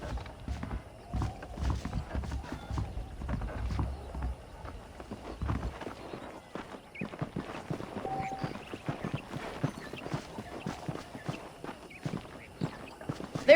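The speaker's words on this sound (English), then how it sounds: "The horses are saddled up over here." Saddled horses clip-clopping in Red Dead Redemption on PC: steady, fairly faint hoofbeats in a walking rhythm. A deeper thudding cluster early on gives way to lighter, evenly spaced steps.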